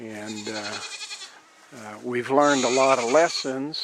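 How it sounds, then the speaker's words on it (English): Goats bleat on a farm, wavering cries rising in the background while someone talks in the foreground. "You can hear the goats in the background here."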